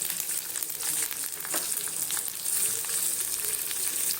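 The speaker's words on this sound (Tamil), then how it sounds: "இதில் நான் ஒரு பெரிய வெங்காயம் கட் பண்ணதை போட்டுக்கிறேன்." A large chopped onion drops into a little hot oil for samosa masala and fries with a steady, bright sizzle, with occasional stirring clinks, close and continuous throughout.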